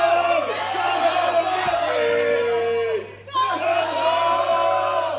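A wrestling crowd at Guiseley shouts and chants to rally Gung-Ho Mutley, caught in a leg submission hold; loud, continuous massed yelling and whooping that dips briefly in the middle, then surges back.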